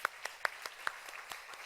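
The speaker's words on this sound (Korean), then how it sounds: "우리 섬겨주신 성가대원들께 감사의 박수 했으면 좋겠습니다." Sparse, faint applause from a church congregation thanking the choir at a Sunday service, a handful of distinct claps spaced out at an uneven rhythm and heard from a distance.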